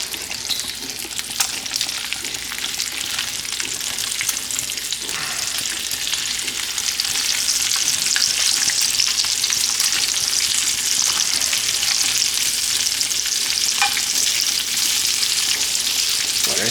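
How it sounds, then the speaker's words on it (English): Bacon frying in a pan gives a loud, constant, close crackling sizzle that runs without pause, with a few faint pops and clinks and no talking. "Let the bacon cook right now. I gotta flip the bacon over."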